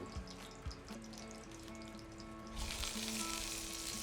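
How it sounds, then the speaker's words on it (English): Sizzling of spicy Italian pork sausage frying in a hot Dutch oven, a steady crackle that grows louder and brighter partway through, with faint clinks and a low hum beneath. "You hear that sizzle? That's what you want to hear."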